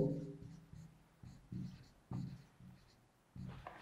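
A pencil scratches on paper while drawing and labelling a diagram of the human digestive system, with short strokes coming in uneven bursts, fairly close and quiet, and no talking.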